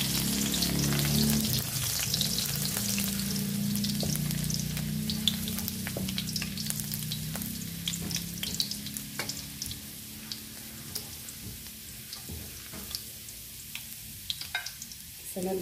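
Garlic frying in oil until golden brown, a close continuous sizzle with scattered crackles and pops that gradually calms and thins out toward the end, without voices.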